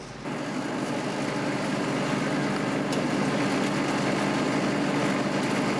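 A combine harvester engine drones steadily and loudly at close range while harvesting wheat, a continuous rumbling roar with no pauses.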